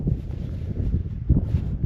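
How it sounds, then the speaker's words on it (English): Strong wind gusting across an open campsite in the Owlshead Mountains of Death Valley, buffeting close to the microphone in uneven surges with a louder gust near the end, no voices. "It's very windy today"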